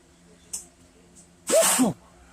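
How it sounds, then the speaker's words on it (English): A single loud, close sneeze, a sharp burst after a brief intake, with a faint voice just before. "I'm gonna sneeze."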